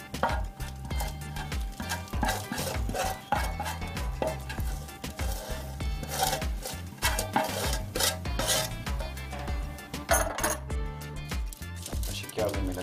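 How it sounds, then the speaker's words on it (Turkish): Spoon scraping and spreading hot pistachio brittle mixture thin on a surface, with repeated rasping, scraping strokes and occasional clinks in an uneven rhythm, close and fairly loud. "Kaşık yardımıyla şöyle inceltiyorum."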